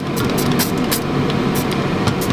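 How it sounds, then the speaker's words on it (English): An air fryer warming up in a kitchen makes a steady, fairly loud fan whir with a few brief rattling bursts on top, and no one speaks over it. "Excuse the noise because the air fryer is warming up."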